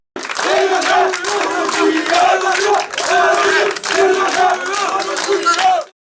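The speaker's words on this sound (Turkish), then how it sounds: "alkış ve Tayyip seninle gurur duyuyor sloganlarıyla protesto etti" A crowd of lawyers from two legal associations in a hall, protesting bar president Metin Feyzioğlu at the podium, chanting slogans in loud, close, rhythmic unison phrases with some clapping mixed in, sustained for several seconds before cutting off abruptly.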